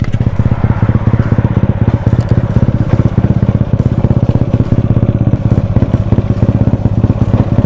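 A motorcycle engine with newly set valves roars close and loud, revving and pulling hard under acceleration, its rapid firing pulses forming a dense, steady throb throughout with no speech.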